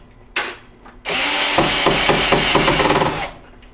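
A drill drives screws into a trim piece on a Whirlpool oven. A short whir comes first, then about two seconds of steady, close, loud whirring with rhythmic ratcheting pulses as the screw seats.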